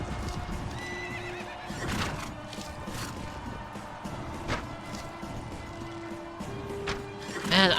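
A horse whinnies loudly over a steady background of hoofbeats and game sounds in Mount and Blade: Prophecy of Pendor, with a sharp electronic chime near the end.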